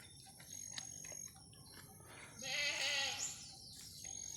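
A newborn goat kid, just delivered, bleats in a wavering cry midway through, close and clear after quiet rustling with faint ticking in the background.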